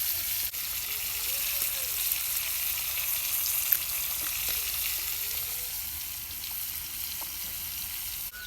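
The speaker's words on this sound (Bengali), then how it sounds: "আবেদা মাছ ভেজে নিতেছে" Fish fry in a pan with a steady, moderately quiet hiss of hot oil, accompanied by faint low background murmurs and an occasional soft knock.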